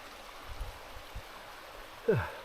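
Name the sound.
small river flowing beside a canoe portage trail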